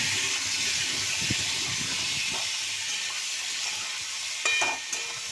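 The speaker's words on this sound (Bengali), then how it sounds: "চিকেনটা একটুখানি ভেজে নেব ভালো করে।" Chicken frying in a pan for a chicken curry, giving a steady bright sizzle and hiss with a few soft stirring knocks and clinks, close up and alone without talk.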